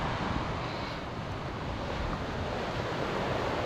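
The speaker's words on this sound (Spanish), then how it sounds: "Está cayendo un montón de agua." Lots of water falling, heard as a continuous dense rushing roar, loud and steady throughout with no voices.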